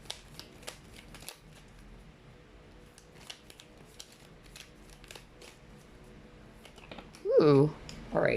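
Tarot cards shuffled by hand, a scattering of quick, crisp clicks and slaps spread across several seconds, close but quiet, ending with a louder voice speaking briefly.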